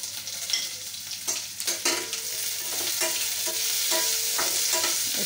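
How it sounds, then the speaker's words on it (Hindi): Green chillies cut lengthwise and finely chopped capsicum sauté with salt in a pan, giving a steady close sizzle broken by sharp scraping stirs and spoon clinks, with no talking. "इसको भी हल्का हम भून लेंगे।"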